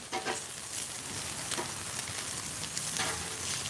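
Food fries on a Blackstone griddle outdoors, with a quiet, continuous sizzle broken by scattered crackles and spatter pops, fairly faint throughout and heard without speech.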